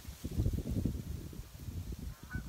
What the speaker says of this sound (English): enjoy all the birds that are flying around